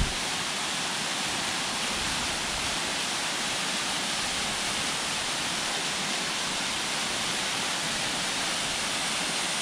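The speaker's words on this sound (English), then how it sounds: "here is North Harper's Creek waterfall" North Harper's Creek waterfall roars as a steady, loud, broadband rush of falling water, continuous and unbroken throughout with no voices.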